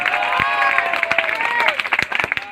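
A crowd claps at a Hindi comedy poetry performance, with dense applause under a lingering voice that breaks into sharper, scattered claps as it thins out toward the end.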